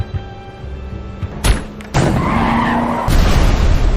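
In a video game, a car skids with a loud tire screech after its front tire is shot out, followed by thumps and a rising engine roar as the vehicle slides out of control.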